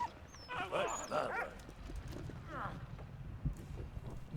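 A dog in the video game Valiant Hearts gives a few short barks and yips, mid-distance and moderately loud, mixed with a faint whimper and soft clopping under a quiet game background.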